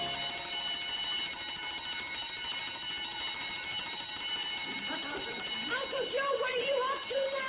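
A lobby intruder alarm rings with a continuous metallic bell-like tone, steady and moderately loud, while voices talk over it toward the end.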